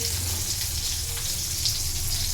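Garlic frying in a pan over low flame alongside tomato, a steady close sizzle and crackle with a low hum beneath, no talking.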